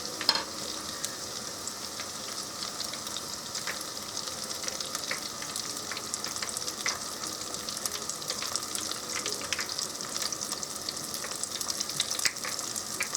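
Beer-batter onion rings deep-fry in hot oil with a steady, even crackling sizzle throughout, dotted with small pops. It is fairly quiet and close, with no talking.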